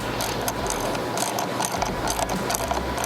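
A ratchet tightens a battery cable terminal on a Jeep Wrangler 2.0L, giving rapid, close, repeated clicking in uneven bursts over a low background hum.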